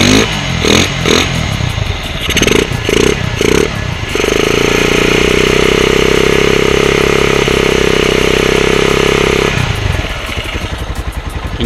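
Motorcycle engine with a filterless intake right after a cold start, close and loud, a few rough revs and blips followed by a steady, slightly uneven idle that lasts several seconds before sputtering revs resume.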